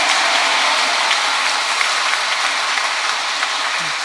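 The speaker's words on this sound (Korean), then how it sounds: "박수 한번 치세요." A congregation claps in a dense, continuous roar at a Catholic charismatic renewal seminar evening Mass, loud and sustained throughout with no talking on top.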